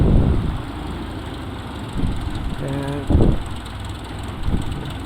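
A low, steady X Cub small aircraft engine idling rumble with a few louder thumps, and a voice speaking briefly over it.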